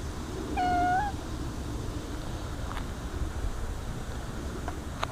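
A single cat meow, rising then falling, stands out near the start over steady outdoor wind and background rumble.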